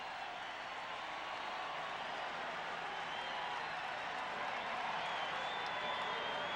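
Baseball stadium crowd before the first pitch of a 1992 World Series game between the Braves and Blue Jays in Atlanta, a distant, steady wash of cheering and applause filling the air with no clear individual voices.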